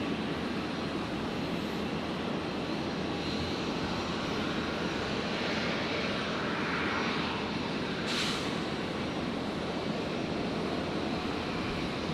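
An airliner departing from Brisbane Airport, a broad continuous engine roar heard steadily from a distance, with no talk.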